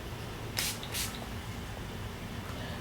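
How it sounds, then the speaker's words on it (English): Two quick hissing bursts of NYX Matte Finish makeup setting spray, close and brief, in an otherwise quiet room. "I'm going to set my face in NYX Matte Finish Setting Spray."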